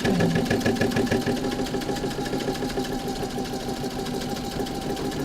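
A sewing machine stitching free motion on fabric gives a fast, steady mechanical chatter close by, running continuously with no talk.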